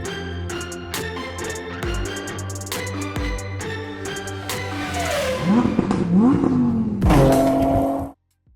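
A Tata Altroz facelift hatchback on a test drive, its engine droning steadily and then rising as it revs harder, with a brief tire squeal near the end before the sound cuts off.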